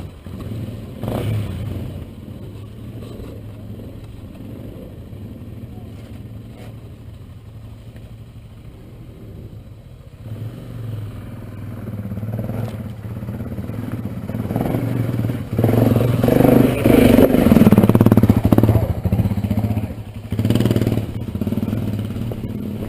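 A BMW G650X Country motorcycle engine works its way up the steep rocky slope of Elephant Hill in Utah, idling and rumbling at first, then revving harder and louder as it climbs with clattering, heard from close by.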